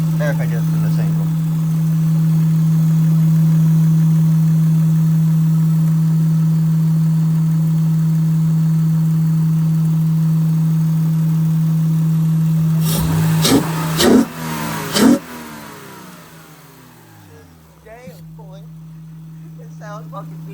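Honda V6 car engine with stock intake idling steadily with a strong low hum, then revved in a few quick sharp bursts before settling, with a voice talking briefly near the end.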